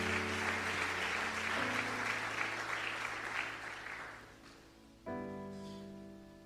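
A church congregation claps in sustained applause, loud and dense at first and slowly fading, over a held organ or keyboard chord that shifts partway and swells again near the end.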